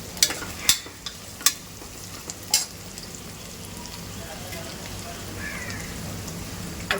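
Onions frying in a pan for chicken methi bhaji, a steady close sizzle and crackle with a few sharp clinks of a spoon against the pan early on.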